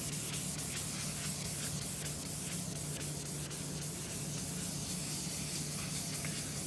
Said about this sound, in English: the next step I'm going to do just this way is the Abralon 500 pad